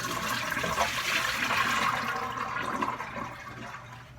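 Water pours and splashes steadily for a few seconds as ice water is drained from a pot of potatoes, gushing out then slowly tapering off, close by with no talking.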